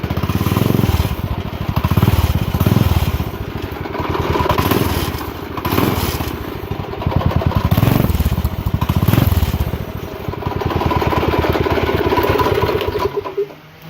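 A go-kart engine fires up and runs, a steady mid-pitched motor drone with a pulsing, throbbing rhythm that holds fairly loud and close for the whole stretch before cutting off abruptly at the very end.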